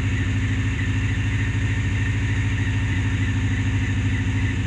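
A Dodge Ram pickup engine idles steadily with an exhaust pipe leak at the catalytic converter, giving a continuous loud, close rumble with a rapid, even ticking puff throughout and no talking.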